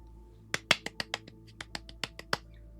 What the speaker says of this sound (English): Just a little golf clap.